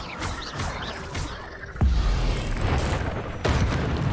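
A fire spell cast in Hogwarts Legacy lands as a sudden low boom at mid-clip and a second burst later, each followed by a sustained roaring rumble over continuous game combat noise.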